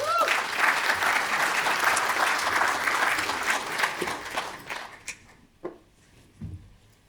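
Book-launch audience clapping warmly for the publisher at the podium, a dense steady applause that fades out over the last couple of seconds, leaving a few scattered claps and small room noises.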